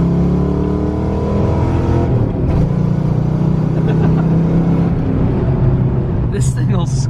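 A stock pickup truck fitted with a turbo, driven with the engine droning loudly and steadily from inside the cab, with short bursts of voices breaking through near the end.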